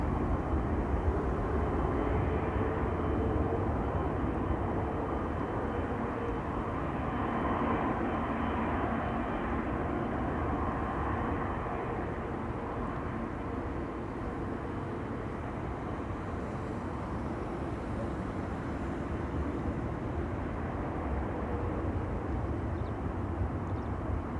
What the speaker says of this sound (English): So this is KLM flight 622, arriving from Atlanta